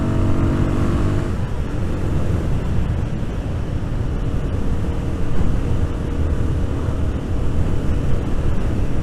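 A Royal Enfield Guerrilla 450 motorcycle pulling hard down country lanes, its engine drone steady and continuous beneath a heavy roar of wind buffeting the microphone throughout.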